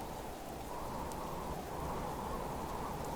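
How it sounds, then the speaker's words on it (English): Steady rain and storm ambience from the survival video game Subsistence, a continuous even hiss with no distinct thunderclaps, holding at a constant moderate level throughout. "which is rain and storm, so it won't make light"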